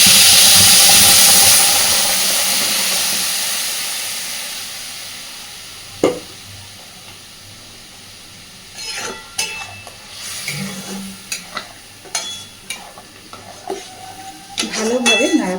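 Ground cauliflower leaf paste hitting hot oil with black cumin, a loud hiss at first that fades, then scattered scrapes and clinks of a utensil stirring in the pan.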